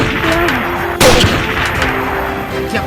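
One sharp, loud gunshot effect cracks out a second in during a Sundanese Rambo parody short film, over a steady background with faint tonal sounds.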